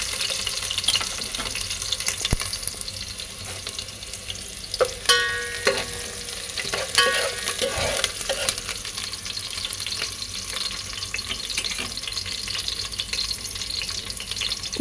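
Sliced onion and curry leaves frying in hot oil in a pan, a continuous sizzle with occasional stirring scrapes and a brief clink, no speech over it.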